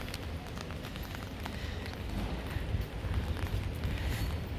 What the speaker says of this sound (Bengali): আজকে ইতালিতে বৃষ্টি আছে দেখ